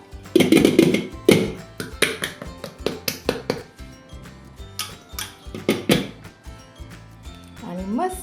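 An upturned metal pot holding steamed semolina-coconut milk cake is tapped against a plate in a series of sharp, irregular knocks, some louder than others, with a voice briefly present.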